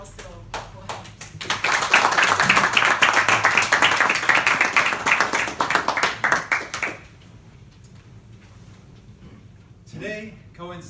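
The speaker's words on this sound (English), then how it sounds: "big round of applause to for him." Audience applause for a speaker at a London Cardinals speech event: a dense burst of clapping swells quickly, holds for about five seconds, then fades out, with a few scattered claps before it and voices at the end.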